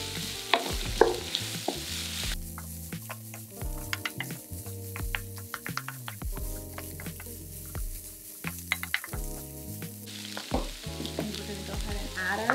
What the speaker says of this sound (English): We're gonna saute our carrots about a minute to a minute and a half before we add our cabbage